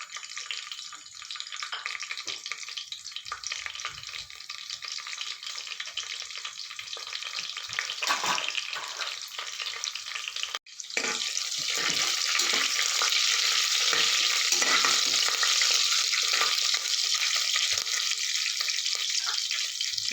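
Curry leaves and Byadgi chillies crackle and sizzle steadily in hot oil for a buttermilk sambar tempering, a loud close frying hiss that swells louder after a brief clatter midway, with no talking.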